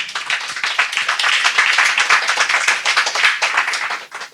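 A congregation at a church service claps their hands in a steady, quick, even rhythm, close and full, continuing for several seconds before trailing off at the end.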